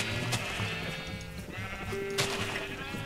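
Sheep bleating in Minecraft, several wavering blocky bleats in close succession with a bright cry near the end, clear and up front over a busy game soundscape.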